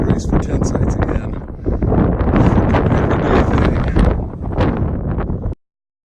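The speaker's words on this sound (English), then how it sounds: "Just enjoying some breeze for a minute." Breeze buffets the microphone on a mountain saddle along the Pacific Crest Trail, loud gusty rushing and rumbling with rustling, fluctuating throughout before cutting off abruptly.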